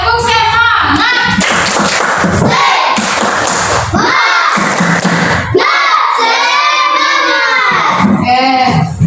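Schoolchildren in an Indonesian coding class doing a spirit clap, with bursts of rhythmic clapping between loud shouted chanting and cheering from the whole group, close and energetic throughout.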